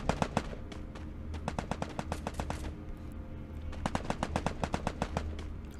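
Gunfire in the video game Free Fire: rapid, loud automatic bursts in quick rhythmic strings, pausing briefly and then resuming, with no talking.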